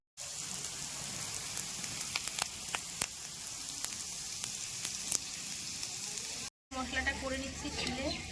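Spice masala sizzles and fries in a pan on a home stove for Bengali-style fried rice and chicken, a steady crackling hiss with scattered sharp pops, cut briefly near the end before a voice speaks.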